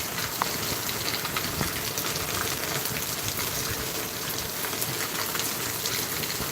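Heavy monsoon rain falls in Mumbai as a dense, steady hiss of drops on surfaces, loud and unbroken, with a few sharper drips standing out.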